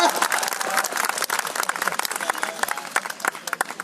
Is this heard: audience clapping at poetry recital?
yes